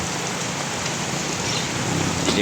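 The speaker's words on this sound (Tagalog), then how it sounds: "biglang buhos na naman yung pinakamalakas na ulan" Heavy rain pours down in a dense, constant hiss, with drops pattering on surfaces throughout.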